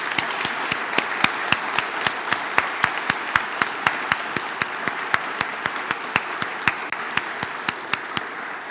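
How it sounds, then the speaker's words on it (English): An audience at a games event applauds steadily, a dense mid-distance wash of clapping with sharper individual claps standing out in a fairly regular pattern, sustained without pause. "So please give one final round of applause to Ari!"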